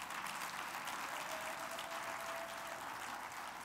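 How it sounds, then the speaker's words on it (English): A church congregation gives a clap offering, a faint, steady wash of dense applause continuing without pause. "I want you to give a clap offering to this vessel."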